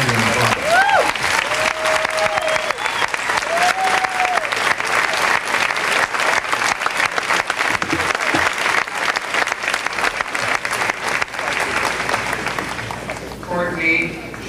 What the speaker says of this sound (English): Please stand and applaud.